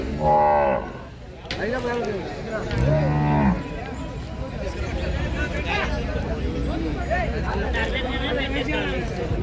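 Nallamala Turpu bulls at the Devarakadra cattle market let out two loud, drawn-out moos close by, amid a steady hubbub of people talking.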